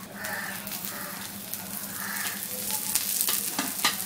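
Browned onion frying in oil for a jackfruit seed curry, a steady sizzle with stirring scrapes and occasional clinks, close and moderately loud.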